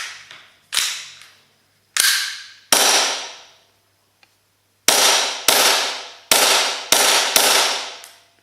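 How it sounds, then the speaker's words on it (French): An Inokatsu Glock G17 airsoft pistol on HPA with a polymer WE magazine fires about ten sharp, loud cracks close up, first spaced irregularly, then in a quicker run of six near the end. "Donc quand on voit ceci, un chargeur WE, polymère, branché en HPA."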